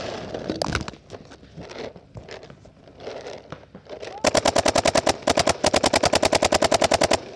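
Paintball markers fire in rapid, evenly spaced bursts at a paintball practice session, loud and close, with people shouting over the shots in the first half.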